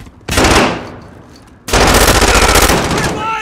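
Automatic weapon fire in a first-person shooter video game: two loud, rapid bursts, a short one then a longer sustained one after a brief pause, close and dominant.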